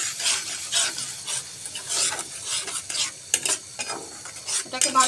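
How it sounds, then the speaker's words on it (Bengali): Grated tomato with spice masala is stirred and fried in a pan for an egg curry, giving close, repeated scraping strokes of the spoon over a soft, steady sizzle, with no talking. "এটাকে ভালো করে কষিয়ে নিচ্ছি।"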